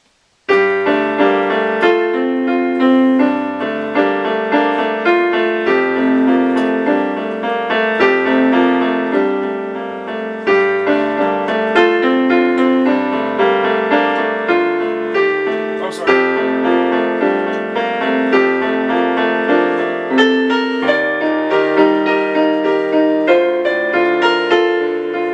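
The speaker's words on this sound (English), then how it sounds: "It's a nice instrumental piano piece if you're into that sort of thing." Solo piano plays a flowing instrumental piece with steady chords and melody, clear and close throughout.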